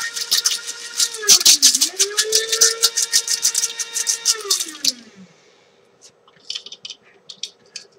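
Peppercorns being crunched in a grinder in a home kitchen while making winter soup, a rapid loud rattling grind over a motor whine that slows and stops, followed by a few scattered clicks.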